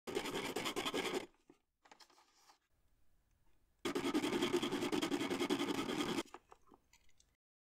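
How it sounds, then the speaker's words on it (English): An HGG pen tip is sanded in two bursts of rapid, close scratchy rubbing, the first about a second long and the second about two seconds, with near silence and faint handling noise between. "you're going to have to sand down your tip even further so that the HGG tip will fit inside of the tips"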